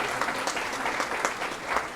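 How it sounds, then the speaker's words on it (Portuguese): Audience at a Portuguese-language ceremony or event applauds steadily, a dense continuous clapping with no voices over it. "Uma salva de palmas, então, mais uma vez, como forma de respeito e agradecimento."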